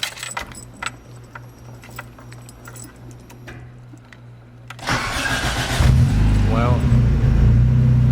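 A Toyota AE86 Trueno sits quietly with faint clicks and jangling keys before its engine cranks and catches near the midpoint, then settles into a loud, rough idle with a rising rev. Someone says a word early on.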